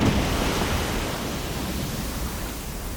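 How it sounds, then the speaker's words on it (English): A geyser rumbles and sprays water into the air, a steady, broad rushing roar that stays loud and even throughout, slowly easing slightly, with no voices. "there is a rumble as the geyser fires up water into the air above you"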